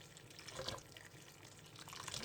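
Running tap water pours steadily into a cooking pot being filled to boil a whole bag of spaghetti, a continuous splashing hiss with a few brief drips, moderately close and without speech.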